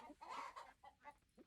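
Chickens in the farming game Coral Island give a few quick, quiet clucks in a brief burst.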